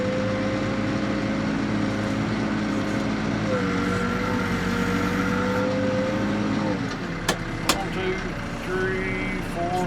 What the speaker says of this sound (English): Skid steer can't quite keep up.